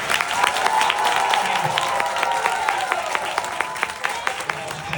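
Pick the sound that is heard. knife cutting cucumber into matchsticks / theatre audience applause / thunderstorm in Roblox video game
theatre audience applause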